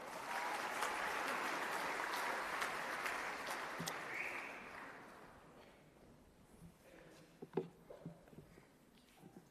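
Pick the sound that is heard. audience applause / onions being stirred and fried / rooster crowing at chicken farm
audience applause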